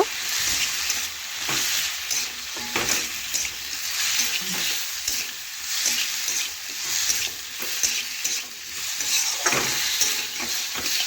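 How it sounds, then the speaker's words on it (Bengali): Papaya pieces with turmeric and chili powder frying in a pan, continuous sizzling broken by regular spatula scrapes and stirring clatter, close and steady. "এখন ভালোভাবে নাড়াচাড়া করে দেখুন একটু ভেজে নেব"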